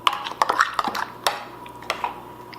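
A spoon mixes a rhubarb and strawberry mixture in a bowl, making a quiet run of irregular clinks and scrapes against the bowl, with short pauses between strokes.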